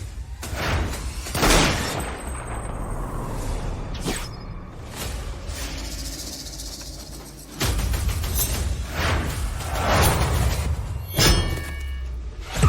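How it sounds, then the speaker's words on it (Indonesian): Gunmen open fire in an action drama scene, with a rapid series of loud, sharp shots and heavy booming impacts spread across the clip, close and dense, with no talking. "Tembak, buka tembakan."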